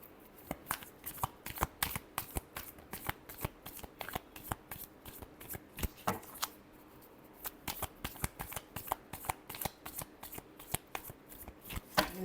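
Tarot cards being shuffled by hand, a long run of rapid crisp riffling flicks repeating at a brisk, even rhythm, close and clear with no talking.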